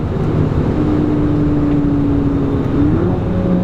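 A 2011 Volkswagen GTI with an APR tune and automatic transmission drones steadily while driving, its exhaust a loud, continuous low hum with a slowly rising engine tone and a slight lift near the end.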